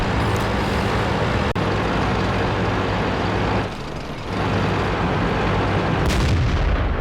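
A tank shell striking a British Tier 7 Black Prince heavy tank's turret and bouncing off in World of Tanks, heard as a dense, loud rumbling battle bed with a sharp crack near the start and a brief dip midway.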